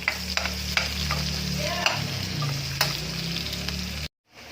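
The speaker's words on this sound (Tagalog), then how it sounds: "Gigisa natin yung bawang at sibuyas." Garlic is sautéed in hot oil in a pan for a ginisang sayote vegetable dish. A loud, steady sizzle comes with repeated scraping taps of the spatula, then cuts off abruptly into silence near the end.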